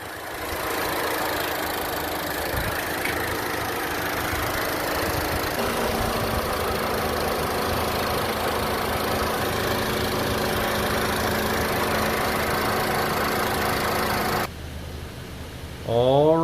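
A 2015 Audi A3 engine idles steadily before an oil flush, giving a continuous close mechanical hum with a light knocking texture that holds level for about fourteen seconds before a brief change near the end.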